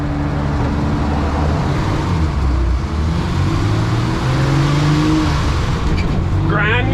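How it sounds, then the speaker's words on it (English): A Mercedes Unimog 404 drives along with a loud, steady engine drone, its pitch stepping through gear changes with rough grinding as it accelerates, heard close from inside the cab. "Grinding gears"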